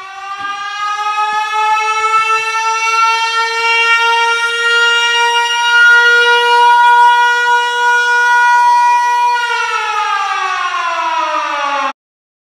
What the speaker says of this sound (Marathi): सायरन वाजलाय